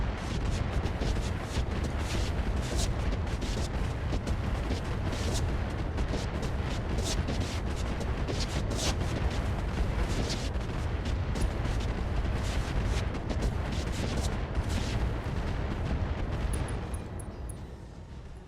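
Ultra Autocannon and MRM 40 missile salvo firing in the BattleTech RogueTech game: a dense, relentless roar of rapid booms and rocket launches, loud and continuous for many seconds before tapering off at the end.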